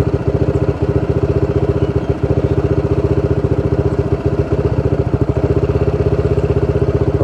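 Honda PCX 160 scooter engine fitted with a racing ECU, a loud, close, rapid steady putter of idling firing pulses with slight variations, no talk.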